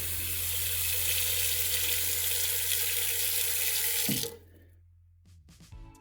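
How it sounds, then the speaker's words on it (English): Kitchen pot filler faucet pouring cold water in a steady, loud, close rush that stops abruptly, followed by quiet clinks and handling sounds. "I also installed a pot filler for Sue to use."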